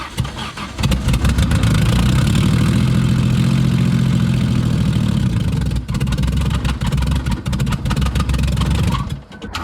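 A seized engine in a rough Ford Mustang bought off Facebook Marketplace is cranked hard with heavy throttle, giving a loud, continuous low mechanical drone that holds steady for most of the stretch before a brief dip and a final cut-off.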